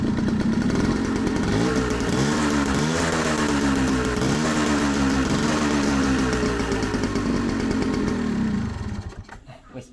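A loud motorcycle engine runs steadily up close, its pitch rising and falling with throttle changes before it quickly fades away at the end.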